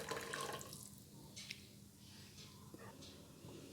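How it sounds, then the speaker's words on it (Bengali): Water running into a vessel as it is rinsed while making burhani, a soft splashing and trickling flow with a few brief louder spurts, heard alone and fairly quiet. "পাত্রটা ধুয়ে একটু জল দিয়ে দিলাম।"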